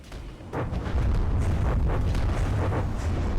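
Cannon rounds from a pack cannon strike an enemy craft in the naval combat game From the Depths, producing a dense run of deep rumbling booms and impacts that build after half a second and continue loudly to the end.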